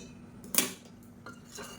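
A spoon stirring brinjal and drumstick pieces with water in a metal cooking pot, one bright clink against the side, then softer scraping and a second light stir, close and quiet.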